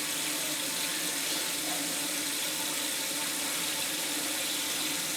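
A toilet tank refills after a flush during a repair of a leaking toilet, with a steady, close hiss and rush of running water throughout, no voices.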